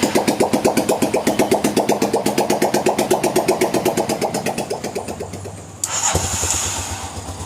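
A Hero Karizma motorcycle engine, running without its body wiring kit, cranks in a fast, even train of chugging pulses for several seconds, then catches with a jump in level and settles into a steady idle, loud and close.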